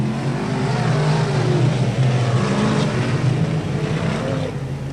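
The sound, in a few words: race cars charging into turn 1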